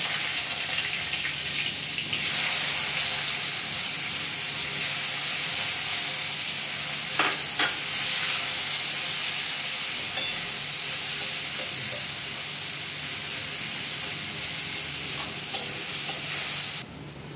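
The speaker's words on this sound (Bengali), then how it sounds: "এবার দিয়ে দিচ্ছে কেটে রাখা পেঁয়াজ" Chopped onions frying in a hot tempering of nigella seeds for a prawn bharta, with a steady, loud broadband sizzle throughout and a few brief stirring clicks, no voices.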